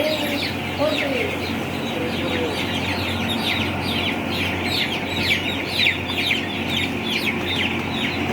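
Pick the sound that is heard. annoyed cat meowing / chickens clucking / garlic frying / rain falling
chickens clucking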